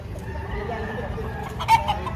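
A nine-month-old Lemon Sweater bloodline gamefowl rooster gives a short cluck near the end, close and moderately loud, over a low background murmur at a gamefarm.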